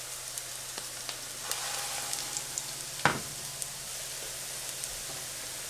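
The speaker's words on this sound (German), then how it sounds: "ein paar kleine Buletten formen und die einfach in das heiße Fett legen" Small vegan meatballs made from plant-based mett fry in hot fat over medium heat, a faint steady sizzle with scattered soft pops and one sharper knock near the middle, close and without talking.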